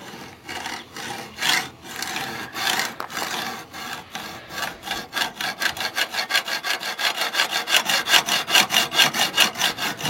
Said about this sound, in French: Des scies à métaux maintenant.